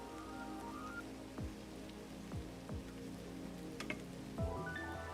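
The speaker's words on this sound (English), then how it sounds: "I love listening to the rain in this thing." Rain falls in the video game Girls' Frontline: Neural Cloud as a soft, steady patter. Tonal game music plays alongside it with a few gliding swoops.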